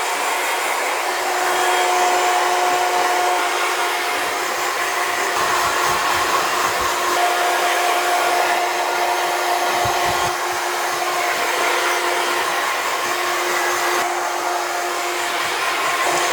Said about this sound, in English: So I'm going to finger dry this now.